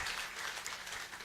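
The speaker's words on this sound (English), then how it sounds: "let's just clap hands for our presenter" Brief burst of audience clapping for a presenter at an academic conference paper session, dense and steady with no voices.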